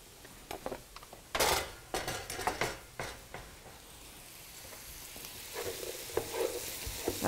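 Summer squash sizzles in olive oil in a skillet, with close, uneven stirring scrapes and clatters early on, then a quieter steady crackle that builds slightly toward the end. No talking.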